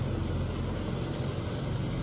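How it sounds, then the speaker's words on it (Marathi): Tractor running through a village, a continuous low engine rumble that stays steady and fairly close, with no voices over it. "गावात ना ट्रॅक्टर चाललंय"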